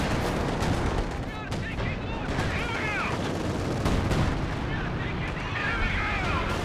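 Weapons fire in Company of Heroes 2 battle, with dense overlapping gunshots, artillery booms and rocket fire from a Werfer, plus a continuous loud din of combat, and a player's voice is occasionally heard over it.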